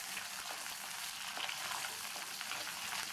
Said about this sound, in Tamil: இது கூட 7-8 பூண்டையும் சேர்த்து ரெண்டையும் வதக்கிக்கலாம்